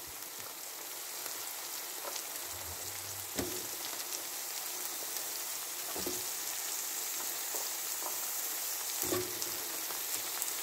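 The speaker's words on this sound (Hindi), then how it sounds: "अब मैं सब्जियों को डालूंगी।" Vegetables for sambar sizzle steadily in a hot pan, a soft, even crackle with a few faint clinks and knocks of utensils spaced through it.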